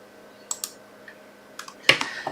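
Short bursts of typing on a computer keyboard, a few scattered key clicks followed by a quicker cluster of presses near the end, close and crisp against a quiet background.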